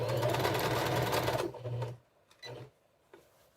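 A sewing machine runs at a steady fast hum while stitching a zipper seam on a duvet cover, then stops and restarts in two short bursts, close and clear.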